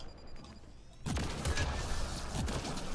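Gunfire erupts in a multiplayer match of Mass Effect: Andromeda. After a quieter second, loud, dense, continuous shooting and impacts fill the rest of the moment with overlapping cracks and rumble.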